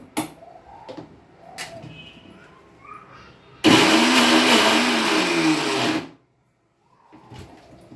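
Mixer grinder blending a chunky chutney roars on for a few seconds, a loud dense whir, then cuts off abruptly, with quieter kitchen clinks and shuffling before and after.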